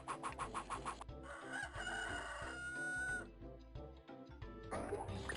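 Hens and a rooster in the 102 Dalmatians video game cluck and crow in quick repeated calls over a busy, looping game music bed, fairly faint overall.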